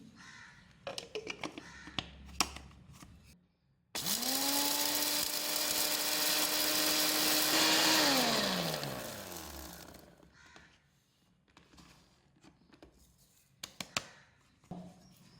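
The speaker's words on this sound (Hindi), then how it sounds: "अब इस मसाले को मैं पीस लूँगी" An electric spice grinder whirs loudly for about six seconds while grinding green cardamom and cloves, spinning up sharply, holding a steady high whine, then winding down, with clicks and handling noises before and after.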